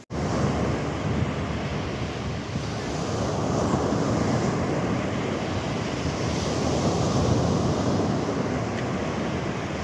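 Sea waves at St Ives, Cornwall roll continuously onto the beach in a broad, steady roar, close by and loud, with wind buffeting the microphone and no talking.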